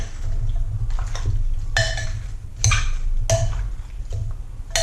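Spoon stirring pot roast ingredients, beef and vegetables, inside a CrockPot slow cooker, with several distinct clinks and scrapes against the pot over a steady low hum, no talking.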